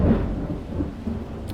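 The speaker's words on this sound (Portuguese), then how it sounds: "Gente, tá chovendo muito, tá trovoando muito aqui, tá?" Thunder rumbles low and steady through a heavy rainstorm, a faint, distant roll with rain hiss beneath it and no voices.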